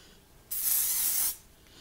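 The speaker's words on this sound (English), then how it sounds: "She also has her own setting spray" A makeup setting spray with a fine mist nozzle, released as one steady burst of bright hiss lasting under a second, close and alone, cutting off cleanly.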